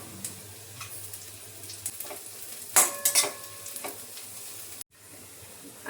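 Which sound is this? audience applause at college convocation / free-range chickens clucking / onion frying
onion frying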